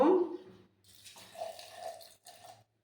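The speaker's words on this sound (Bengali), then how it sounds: "এটা মিক্সিং জারের মধ্যে দিয়ে সামান্য একটু জল দেব" A small amount of water is poured into a mixer jar for grinding soaked rice and lentils, a short gurgling trickle heard close up in two brief bursts with no talking.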